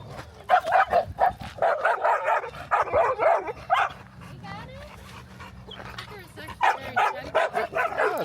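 A dog at a dog park, wearing an anti-bark collar, gives repeated yips and barks in short bursts, close by, mixed with people talking and some panting.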